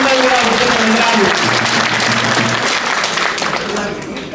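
An audience at a public gathering claps loudly and continuously, a dense wash of applause that fades slightly toward the end.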